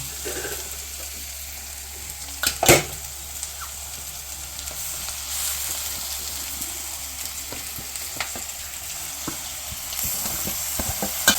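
Onions and tomato pieces fry in a pan for a drumstick milk curry, with a soft continuous sizzle and occasional sharp stirring clatters, one louder knock early on.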